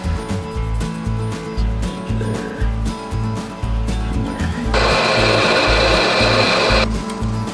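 A Harbor Freight drill bit bores a hole through a steel crossmember for a 1948 GMC pickup carrier bearing in a fab shop, with the bit smoking. A loud, steady grinding whine runs for about two seconds over ongoing rhythmic low thumping.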